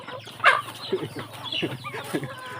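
Burmese fighting chickens cluck close by in a few short, throaty bursts spread over a couple of seconds, over quiet background noise.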